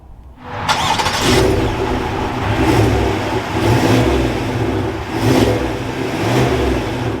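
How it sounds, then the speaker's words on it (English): A 2023 GMC Yukon XL 4WD Denali starts up close by, cranking and catching into a loud, steady idle with a few light rev swells, no voices over it. "But let's fire this Denali back up."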